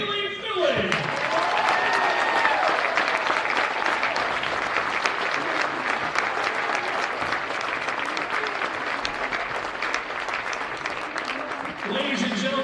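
A crowd in a high school girls' basketball gym gives sustained, dense applause and cheering for two players reaching 1,000 career points, with a brief voice at the start and end.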